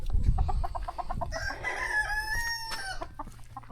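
Chickens cluck nearby while a rooster lets out a loud, drawn-out crow in the middle, over a low rumbling background.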